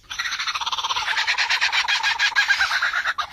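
An Australian lyrebird, a ground-dwelling bird, mimics the calls of various other birds in a rapid, steady run of bright pulsing chirps and warbles, close and fairly loud, ending with a short break and a final note.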